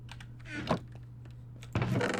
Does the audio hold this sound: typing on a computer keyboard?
yes